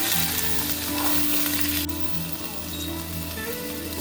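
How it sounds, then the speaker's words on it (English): Pork ribs sear in an oiled pan for a Vietnamese braise, giving a steady, loud, close sizzle and crackle with a low hum underneath, no voices. "I'm gonna lay it down to get a little bit of that sear on the other side"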